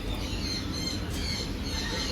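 Caged birds in a pet shop in Pathanamthitta give faint, high squawks and chirps over a low hum of room noise.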